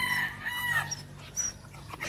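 A rooster crows on a rural Philippine farm where cattle are raised, a clear close call with rising and falling pitch followed by a second shorter crow, with faint background noise and no speech.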